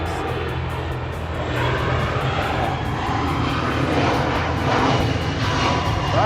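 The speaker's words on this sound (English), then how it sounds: "Tell you what, some good planes going over." A low-flying propeller airplane drones overhead, loud and steady, its engine roar swelling slightly as it passes and holding for several seconds with no one speaking.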